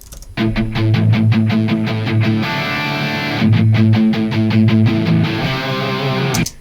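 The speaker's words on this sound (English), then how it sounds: "This is a distortion pedal I am demoing" Heavily distorted electric guitar plays sustained chords and riffs, loud and saturated, with a brief pause in the middle before it resumes.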